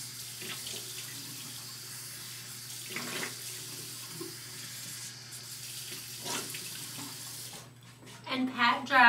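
Running tap water splashes steadily into a sink as a face is rinsed during a nightly skincare routine, a continuous mid-level wash with small splashy bursts, growing louder and choppier near the end.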